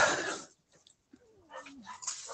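Dogs bark at home during an online meeting: a burst of yapping, a thin falling whine, then more scattered barks, moderately close with brief gaps of silence.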